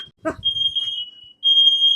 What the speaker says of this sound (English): her fire alarm's going off